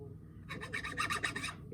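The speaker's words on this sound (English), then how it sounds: "get these cleaned up, the burrs off. These are really fine files, so not to do deep gouges or anything." A very fine metal file rasps burrs off freshly cast lead jig heads in quick, even back-and-forth strokes, close and fairly quiet, about eight rapid passes in a short burst.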